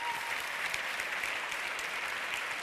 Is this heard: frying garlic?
no